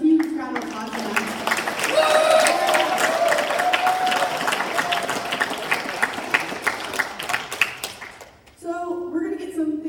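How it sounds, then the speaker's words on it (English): The audience at a hackathon keynote event gives a sustained round of applause with some cheering and a whistle-like cry rising over the clapping. It then thins out, and a voice starts speaking near the end. "So please give a huge round of applause to them."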